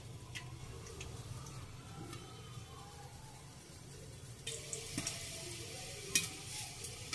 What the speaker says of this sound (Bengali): আমার পপকর্নগুলো কিন্তু এই যে একদম ভাজা হয়ে যাচ্ছে, সবগুলো ফুটে উঠছে